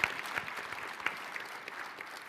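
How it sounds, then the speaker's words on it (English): A light round of applause during an online panel on web CMS implementation, scattered claps with a few sharper hits, fairly quiet and close, no talking. "Nice round of applause from Michael Kincaid from Eccentric Arts"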